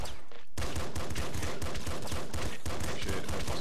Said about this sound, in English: Assault rifle is 3-round burst, which is cool.